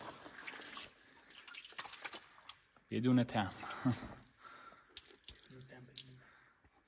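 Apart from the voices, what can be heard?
spring water trickling in Kahak cave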